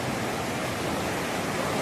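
A flooded river under South Pine Road after Cyclone Alfred, swollen and carrying debris, gives a broad, steady roar of rushing water, loud and unbroken, with no voices.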